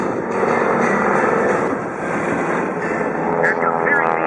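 A 5,500-pound military aircraft with a 600 hp supercharged nine-cylinder radial engine drones steadily at an air show, a continuous broad engine roar with wind noise.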